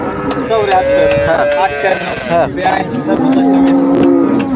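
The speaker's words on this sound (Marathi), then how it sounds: "मित्रांनो ही दुसऱ्या व्यताची गाय आहे" Cows at the Modnimb cattle market give loud, close, drawn-out moos, several in a row over a busy background.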